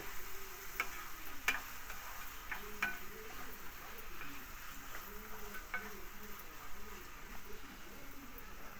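Tomatoes being stirred in a cooking pot, with soft scraping and frying sizzle under faint ticking clicks and a chirping bird-like tone in the background, fairly quiet throughout.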